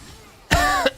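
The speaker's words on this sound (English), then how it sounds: "Sorry about the coughing." A couple of sharp coughs close to the microphone during a League of Legends gaming session, bursting out loudly after a quiet moment, with a short pause between them.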